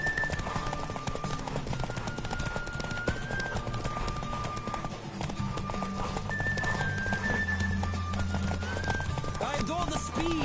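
A horse gallops in The Witcher video game, its hooves pounding in a steady, fast clip-clop throughout with a brief whinny, under game music and a speaking voice.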